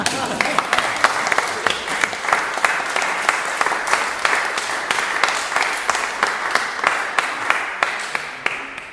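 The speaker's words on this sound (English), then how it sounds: "rapturous welcome round of applause" A lecture audience gives a welcoming round of applause before a professor's talk, a sustained, crisp wash of many hands clapping at even strength throughout, with faint voices beneath.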